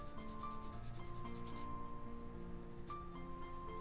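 A sanding stick rubs back and forth over a resin piece in steady, close scraping strokes that continue without pause, with a faint tonal hum underneath.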